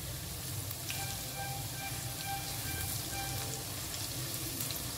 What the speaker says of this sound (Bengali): বাঁধাকপির বড়া বা পাকোড়া যাই বলুন না কেন, এটা ভেজে নেব